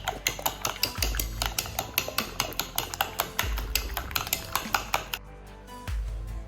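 Eggs with onion and coriander are beaten in a bowl, a fast steady run of close metallic clinks as the utensil strikes the sides, broken by a few heavier knocks.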